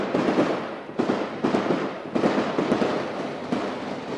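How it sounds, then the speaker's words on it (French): Gunfire is exchanged during a police assault on an apartment. Irregular sharp cracks burst repeatedly over several seconds, each one echoing with a reverberant tail. "6 à 7 minutes d'échange de coups de feu,"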